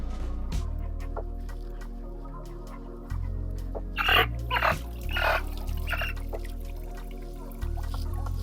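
Water is poured in several splashing bursts over broiler chickens on a farm during a heatwave, while the flock clucks and murmurs steadily throughout.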